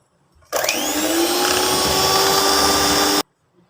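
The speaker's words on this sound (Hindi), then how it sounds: "और 1 टेबल स्पून ये मिक्सचर को डालेंगे और फिर बीटर चलाएंगे।" An electric beater whirs steadily as it mixes coconut cake batter with egg, a loud, close, continuous motor drone that starts abruptly, holds for nearly three seconds, then cuts off.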